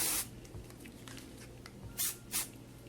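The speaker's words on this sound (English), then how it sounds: "I'm just gonna go in and spray" Hairspray mists onto hair in three short, close bursts: one at the start and two near the end, separated by quiet handling.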